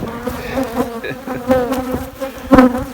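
Honey bees buzzing around a beehive, close and loud, with several individual insects droning and passing near in overlapping hums that swell and fade.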